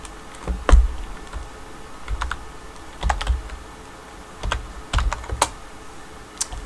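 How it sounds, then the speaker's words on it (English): Someone types a name on a computer keyboard during a Minecraft creative build session, producing several short clusters of sharp keystrokes separated by brief pauses, close and fairly loud with no speech. "let me type your name in"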